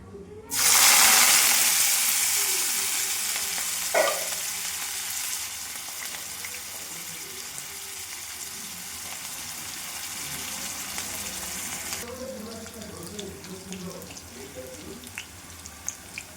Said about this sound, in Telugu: ఆయిల్ హీట్ అయ్యాక కట్ చేసుకున్న ఉల్లిపాయ పచ్చిమిర్చి అయితే ఇందులో వేసుకుంటున్నాను